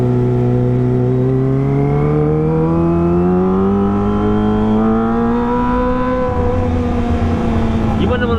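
A Kawasaki ZX25R motorcycle fitted with a cheap BJS aftermarket exhaust revs loud and close. Its strong engine tone climbs steadily in pitch over several seconds, then eases off near the end.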